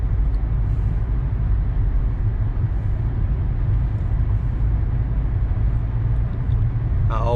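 A car with a pulley-type transmission drives along after a customer oil change that left it reluctant to accelerate; a steady, loud low engine and road drone runs throughout, with no distinct shift changes and no talk.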